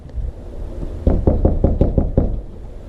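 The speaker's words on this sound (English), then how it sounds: "let's knock on the door" Knocking on a house door, about seven firm, evenly spaced raps in quick succession, close and loud over a low background rumble, with no talking.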